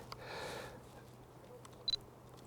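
A quick double click of a Fujifilm camera shutter firing once with an XF 8-16mm lens at f2.8, crisp and close, over a quiet background hiss.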